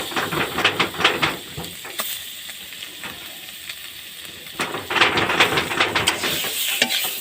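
Bitter gourd pieces with turmeric and salt being stirred and frying in hot oil, giving a steady sizzle with scraping stirs that are busy early on, ease off in the middle, and pick up again near the end.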